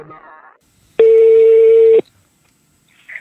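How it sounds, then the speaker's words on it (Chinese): A single steady telephone tone, loud and about one second long, sounds as a call is placed during a call-in talk show, with brief voices just before and after it. "我们来打一下他的电话"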